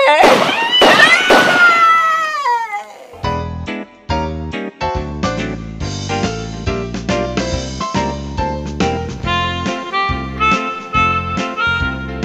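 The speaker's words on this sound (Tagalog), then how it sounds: "Makaihagis na yung granada." A grenade explosion in a Filipino action drama, heard as a loud, dense burst of blasts and crackling pops in the first two seconds, followed by a swell of dramatic music.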